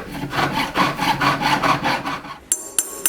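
A hand saw rasps back and forth through metal in quick, even strokes, close and loud, about a dozen passes before stopping with a few sharp clicks.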